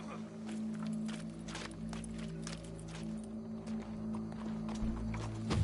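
Horse hooves walk along at a steady, unhurried clip-clop pace, moderately close, over a constant droning hum, with no voices.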